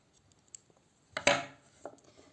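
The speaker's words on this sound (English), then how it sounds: "I here chain 1 and cut the yarn" Scissors snip through crochet yarn in one sharp, close cut, followed by a quieter second snip, with near silence and small handling clicks before it.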